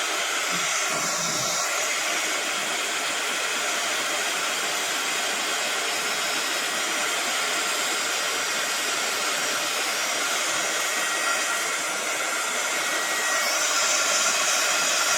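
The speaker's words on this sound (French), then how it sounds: "Je prends mon pistolet donc chauffant." A heat gun blows hot air onto a craft card, producing a loud, steady roaring whoosh that continues without a break for the whole stretch.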